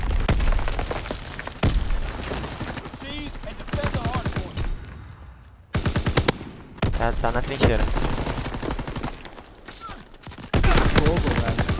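Video game gunfire comes in rapid bursts and single shots, loud and close, with dull thumps among them. Players talk between and over the shots.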